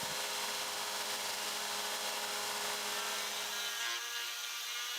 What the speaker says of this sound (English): I continued to rough out the shape by using a belt sander